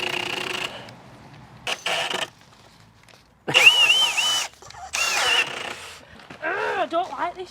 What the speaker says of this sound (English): I don't like this drill.